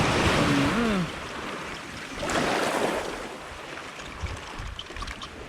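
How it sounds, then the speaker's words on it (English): A diving mask being rinsed out in sea water on a Jamaican beach, with a short whistling tone at the start, then sloshing and splashing water against a wash of surf. "I just wash out the mask right now."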